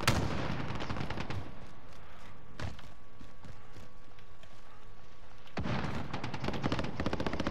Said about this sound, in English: I'm getting shot from behind on the hill.